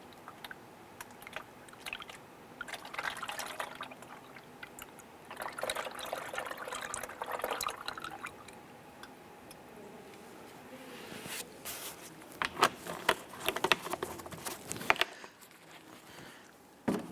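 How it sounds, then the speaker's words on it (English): Coolant runs through a clean funnel into the reservoir of a 2008-2013 Nissan Rogue, with intermittent gurgling trickles and bursts of pouring, some sharper clinks and glugs near the end. "use a clean funnel and use the appropriate recommended coolant for the vehicle. We're going to fill this up to that seam."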